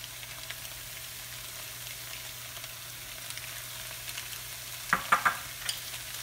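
A pan of pad thai with soybean sprouts being stir-fried, giving a low, steady sizzle followed near the end by a few quick scraping clatters of the utensil tossing the noodles.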